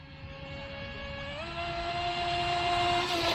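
A WLtoys WL916 radio-controlled speedboat runs across calm water, its small motor giving a steady high whine that climbs in pitch and grows louder as it speeds up, heard alone without talk.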